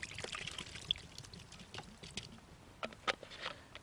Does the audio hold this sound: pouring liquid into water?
yes